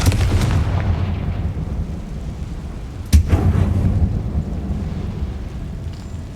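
A Confringo blasting spell explodes in a Harry Potter video game, inside a closed wine cellar: one sharp, loud burst cuts through a steady low rumble, with no talk.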